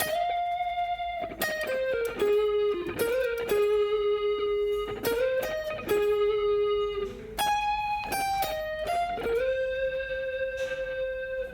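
Guitar playing the solo from a song, a slow melodic line of sustained single notes with slides and bends, clean tone with light effects, picked phrases separated by brief gaps, alone and close.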